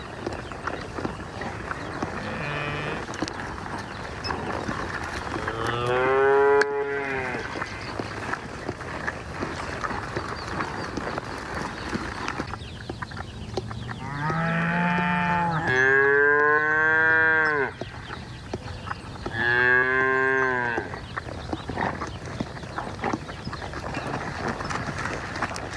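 Cattle moo repeatedly outdoors during cow-tracking practice, with three long, loud, drawn-out calls spaced across a steady background of outdoor noise and no speech.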